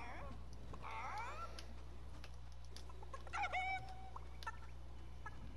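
Chicken clucks from a bird used for a sneak approach in Fortnite Chapter 2 Season 6 Primal, several short, bright squawks across the clip over steady game music and ambience, moderately close, without talk.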